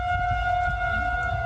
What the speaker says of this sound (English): In the Midwest, sirens blaring.